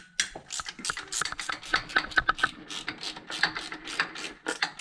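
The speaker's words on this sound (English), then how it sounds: "Now we undo these two bolts and we just have to loosen them" A ratchet wrench clicks in quick irregular bursts as it loosens alternator mounting bolts on a Ford Crown Victoria during intake manifold work, close and fairly loud with no talking.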